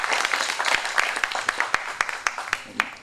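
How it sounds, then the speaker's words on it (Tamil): Audience at a Tamil film event applauding the director, a crowd clapping with many sharp distinct hand claps standing out in an uneven rhythm that gradually thins. "உங்கள் பலத்த கரகோஷத்தோடு"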